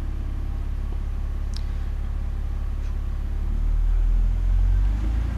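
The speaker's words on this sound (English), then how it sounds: "I'm giving it some throttle now, just sort of power braking it, using the transmission to load the engine." A 2002 BMW 330i with a lean running condition, in drive and held on the brakes with throttle applied, gives a steady close engine drone and low rumble that swells heavier toward the end.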